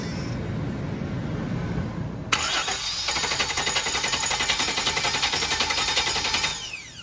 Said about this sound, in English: So we're just turning the ignition